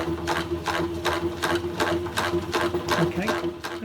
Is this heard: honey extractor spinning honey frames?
yes